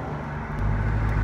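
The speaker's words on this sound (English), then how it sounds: "we're going to just start off pull away, show us like pulling away, running through the gears as we accelerate up to speed here" A Saab car pulls away, its engine note rising sharply partway through as it accelerates, loud and close, with no voices.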